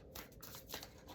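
A Thoth Tarot deck is shuffled close by, a soft rapid riffle of card edges in short bursts, quiet and steady with no voices.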